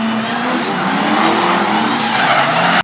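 A drift race car in the Russian Drift Series slides sideways with a sustained tire squeal over a high-revving engine, loud and close, holding steady for nearly three seconds before cutting off abruptly.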